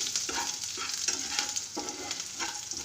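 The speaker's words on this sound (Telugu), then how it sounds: "తర్వాత కొంచెం వెల్లుల్లి, అది కూడా కొంచెం బ్రౌనిష్గా వచ్చే వరకు వేయించుకోవాలి." Garlic frying in a pan until browned for palak paneer, a steady bright sizzle with a few stirring scrapes, close and moderately loud, with no voices.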